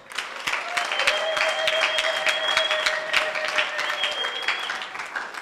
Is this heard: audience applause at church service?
yes